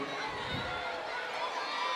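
Fans at a girls' 3A championship basketball game roar for the Alchesay Falcons, steady crowd noise filling the gym while a voice talks over it.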